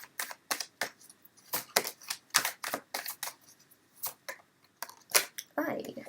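Tarot cards being shuffled and pulled, a run of crisp, close riffling snaps and flicks in irregular bursts, with no talk over them.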